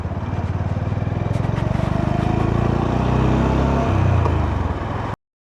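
A Honda GB350C's long-stroke, air-cooled 350cc single-cylinder engine running, its deep, thumping exhaust pulses steady and close, swelling slightly before cutting off abruptly.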